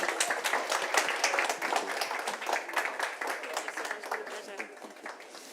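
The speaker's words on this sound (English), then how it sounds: "Round of applause for the judges." Audience applause for the judges at the UK Barista Championship 2023 regional heat in Cardiff, a dense, steady patter of many hands clapping that fades slightly toward the end.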